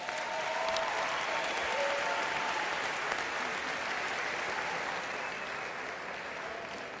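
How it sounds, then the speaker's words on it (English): Sustained audience applause fills the hall at the Miss Gibraltar 2019 pageant as dancers come on stage, a dense, even roar of clapping that slowly eases toward the end. "Give them a big round of applause."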